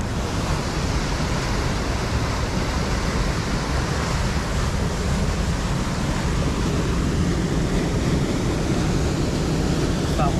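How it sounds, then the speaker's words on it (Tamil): Karumalai Falls in Valparai, a waterfall with water flowing forcefully, a dense, steady roar of rushing water filling the whole scene without a break and without voices. "எவ்வளோ ஃபோர்ஸாக தண்ணி போயிட்டுருக்கு பாருங்க."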